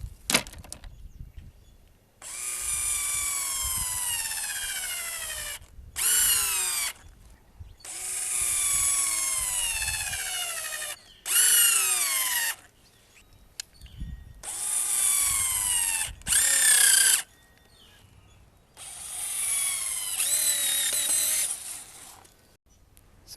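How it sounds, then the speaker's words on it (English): A cordless power drill drives screws into a battery bank setup, whining in several bursts of a few seconds each that rise and fall in pitch as it winds up and slows, close and loud with quiet pauses between runs. "Let's get the screw into that"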